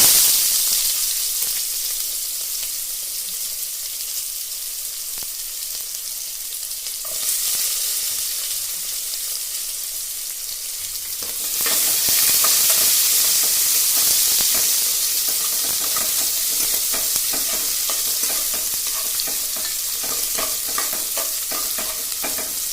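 Onion and green chillies sizzle in hot oil in a pan while being stirred for bisi bele bath, a continuous bright frying hiss with scraping spoon strokes that grows louder partway through, with no talking.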